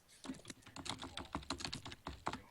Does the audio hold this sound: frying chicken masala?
no